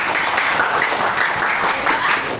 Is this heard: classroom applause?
yes